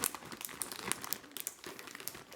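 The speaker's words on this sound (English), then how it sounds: "Make sure I hear all that zipper sound." A Ziploc bag holding stuffed peppers is pressed shut along its zipper, giving soft, quick crinkling and ticking plastic sounds, close and quiet, with no voice.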